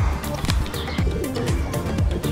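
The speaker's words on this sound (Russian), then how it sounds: "Тут в этом парке голуби." Pigeons in a city park coo in repeated low throaty calls close by, with a few chirps from other birds and faint rustling in between.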